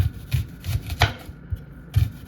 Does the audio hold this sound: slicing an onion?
yes